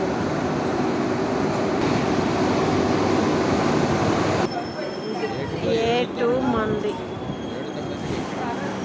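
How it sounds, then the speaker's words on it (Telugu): A loud, steady rumble of a train pulling into a station platform rolls in for several seconds, then eases off as people speak nearby and brakes faintly squeal. "మన ట్రైన్ పెడుతున్నాడు ప్లాట్ఫామ్ మీద"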